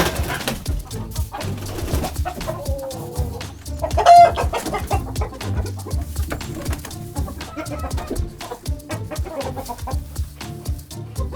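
Homestead chickens cluck steadily in a busy flock, with one louder squawk near the middle, over rustling and movement noise.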